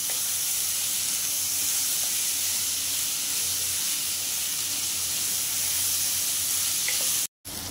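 Waal dal amti simmers in a pan with a steady, even hiss and sizzle that holds at constant loudness, close by, with no talking, before a brief cut near the end.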